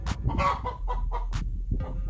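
A chicken clucking in a short series of sharp, distinct clucks and squawks with brief gaps between them, close and fairly loud against a low steady hum.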